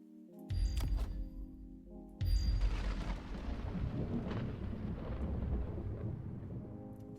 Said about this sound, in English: Lightning Storm for both players?